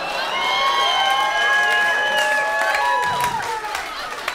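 A stand-up comedy club audience breaks into loud, sustained applause mixed with whoops and cheers, the crowd noise swelling and then tapering off.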